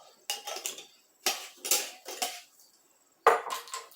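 A spoon or whisk rattles and scrapes against a bowl while a spice blend is mixed, giving clustered, ringing clinks in a few bursts with short gaps, close and alone.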